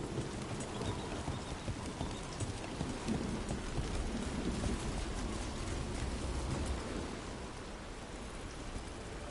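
Steady rain in the video game Dragon Age: The Veilguard patters continuously on surfaces, a soft even hiss with faint drips, no voices.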